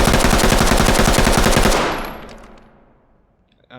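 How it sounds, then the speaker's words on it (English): Full-auto burst from a firearm in the tactical shooter game Ready or Not, a loud rapid string of shots for nearly two seconds, then a fading echo tail and a brief clatter. "Now I'm going to do a full auto burst into the target with about half of the magazine."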